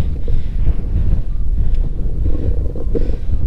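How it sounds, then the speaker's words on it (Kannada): Strong, steady wind roars and buffets the microphone throughout on the Kumara Parvatha mountain trek, with low rumbling gusts and no voices. "ಈ ಥರ ಗಾಳಿ ಬಂದರೆ ಅಟ್ಲೀಸ್ಟ್ ಪುಷ್ ಮಾಡುತ್ತೆ"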